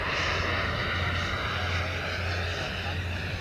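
A large jet-powered RC model Sukhoi plane flies overhead with a steady, loud roaring whine that holds throughout, while people talk nearby.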